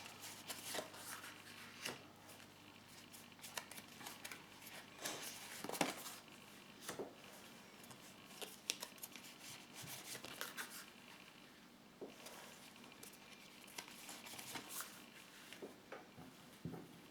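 Tarot cards being shuffled and laid out, with soft repeated riffling, rubbing and papery slaps in a quiet room, steady and close throughout.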